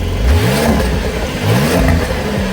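A 2021-2024 Porsche 911 992.1 Targa 4 GTS engine revs loudly and close by, rising and falling in two throaty bursts with a raspy exhaust note.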